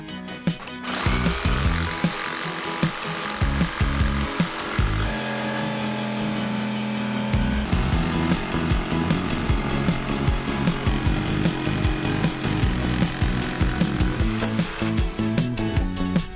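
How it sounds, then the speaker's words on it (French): A jigsaw cuts a circle out of a wooden board with a string held taut as a guide, giving a continuous loud buzzing saw drone with a rapid stroke rhythm throughout, no voices. "il n'y a plus qu'à scier le cercle en conservant la ficelle bien tendue."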